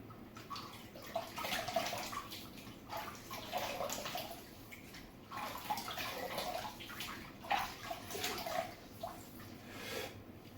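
Hot tap water runs into a bathroom sink with a soft, steady stream and gentle, uneven splashing, faint and close, with no talking.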